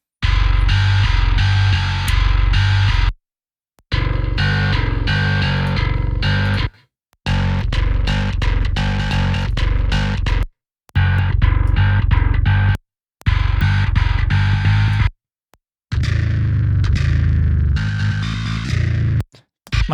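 Distorted, heavy metal bass tones from the Sanguine Bass MIDI plugin, played as loud separate riffs with short silent gaps between them as different presets are switched through.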